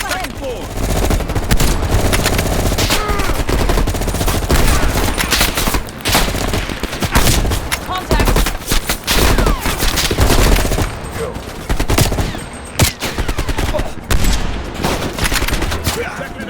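Gunfire in Call of Duty: Black Ops Cold War, dense bursts of automatic weapons fire and shots nearly continuous and loud, with game voices shouting in the mix.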